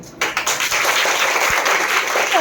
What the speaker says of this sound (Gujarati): તો જ તમારે તાળી પાડવાની